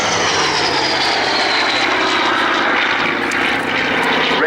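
A loud, close Hawker Sea Fury roars past at about 380 mph, its 2,500-horsepower radial piston engine droning deep and sweeping through with a shifting pitch as it passes, at an airshow.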